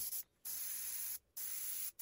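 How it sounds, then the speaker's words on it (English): A Casubaris airbrush pen with a rotatable head sprays small dots in three short hissing bursts separated by brief silences. The bursts are quiet and close, with no talk. "the small spray points to indicate the stars."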